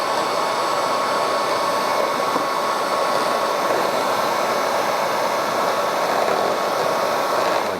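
A heat gun blows with a steady, unbroken whirring hiss, close and fairly loud, while it warms the thick fabric seam of a VW Mk1 Cabriolet convertible top during installation.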